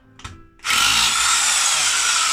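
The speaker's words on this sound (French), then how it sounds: "une mèche de 6 sur une perceuse perforeuse." Hammer drill fitted with a 6 mm bit bores into a hollow concrete block, starting with a short tap and then a loud, steady, continuous grinding whine that runs to the end with no talk.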